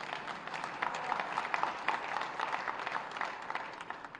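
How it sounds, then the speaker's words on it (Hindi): Loud applause from a crowd at a political speech by Delhi Chief Minister Rekha Gupta: dense, continuous clapping that holds steady for several seconds, with no talking over it. "इस पे कितनी जोर की ताली बजी है"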